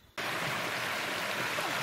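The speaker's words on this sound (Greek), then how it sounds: "Και εδώ, παιδιά, είναι το ποταμάκι." Small river stream by Lake Doxa in a wooded setting, a steady, close rushing flow of water that starts abruptly and continues evenly without voices.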